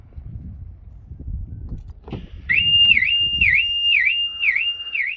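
A car alarm chirps in a repeating warbling pattern, loud and close, starting after a few seconds of low rumbling background noise.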